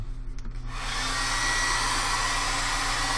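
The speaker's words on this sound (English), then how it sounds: "so there is coat one. I'm gonna dry that real quick." A hair dryer switches on after a brief quiet moment and then blows loud and steady, drying a coat of paint in an art journal at close range, with no voices.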